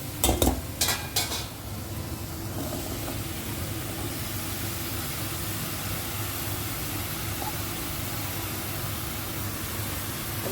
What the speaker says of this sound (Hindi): तो अब इसमें डालते हैं पम्पकिन।